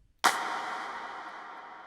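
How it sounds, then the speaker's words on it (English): A single sharp clap sample for an amapiano beat, drenched in large reverb, hits once and then spreads into a long, slowly decaying wash that fills the rest of the moment, no talking. "It's a clap."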